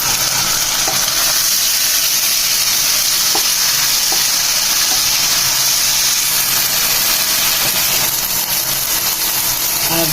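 Ginger and garlic paste sizzles loudly and steadily in a hot pan, a dense continuous hiss for the whole stretch with a few faint ticks of stirring, no voices.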